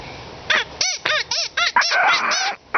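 Gray squirrel call sounded to mimic a squirrel that wants to play: a series of about eight sharp, raspy chattering barks in quick uneven rhythm, close and fairly loud, with no talking.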